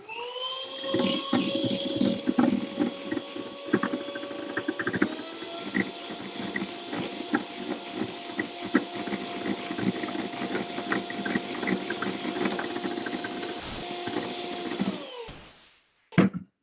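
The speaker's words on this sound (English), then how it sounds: "Now, I'll continue to whisk this till it becomes nice and fluffy." An electric mixer whisks cake batter with granulated sugar until fluffy, a steady close motor whine with a constant pitch that runs for about fifteen seconds before cutting off near the end.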